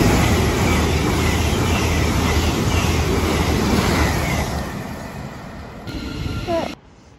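A Class 8xx train passes at Hatfield on the East Coast Main Line, a loud, sustained broadband rush that holds steady then fades over several seconds before cutting off, with a brief voice near the end.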